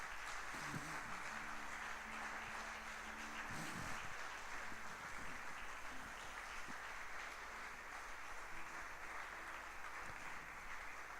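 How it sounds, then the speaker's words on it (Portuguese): A church congregation applauds steadily throughout a Portuguese-language worship service, a dense wash of clapping filling the room, with a few faint musical tones and murmurs early on. "Você pode aplaudir o Senhor Jesus por isso?"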